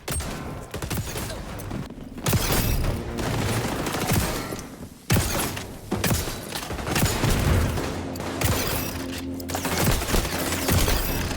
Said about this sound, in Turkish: Tam yakın mesafede biraz daha iyiymiş bu silah.